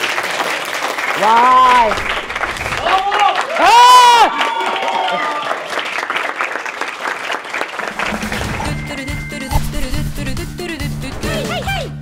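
Studio audience applause on a Turkish TV talk show, clapping and crowd noise swelling in bursts under loud overlapping voices and exclamations, ending with rhythmic background music.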